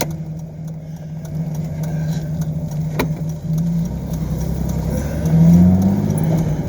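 A Z car driving along, its engine a steady mid-range drone with road noise, swelling into a brief rev near the end.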